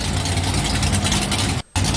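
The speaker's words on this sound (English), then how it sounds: "Dan Evans bringing out the Blue Thunder monster truck" The Blue Thunder Camaro monster truck engine in the Rigs of Rods video game drones loud and steady at a deep pitch, then cuts out abruptly for a split second near the end before resuming.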